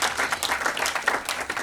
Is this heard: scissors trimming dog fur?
no